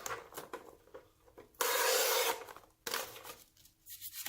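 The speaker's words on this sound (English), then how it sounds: "And just like I did, rub down on it again." Rubbing down an adhesive sticker sheet by hand after feeding it through a Xyron sticker maker for a jeweled headband craft: close, scratchy rubbing strokes with one loud, sustained burst of friction in the middle and quieter rubs around it.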